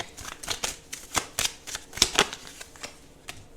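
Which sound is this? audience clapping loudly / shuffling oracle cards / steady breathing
shuffling oracle cards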